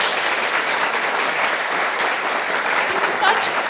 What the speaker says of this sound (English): If you wouldn't mind giving her a round of applause.